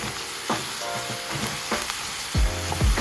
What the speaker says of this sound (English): I'm also gonna cover this so that it kind of steams at the same time that it sautés